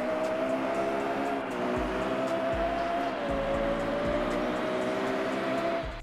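Lexus LFA track version in the Roblox game Pacifico 2, its engine holding a steady high-pitched whine at speed, with brief dips and rises as it runs along a highway tunnel.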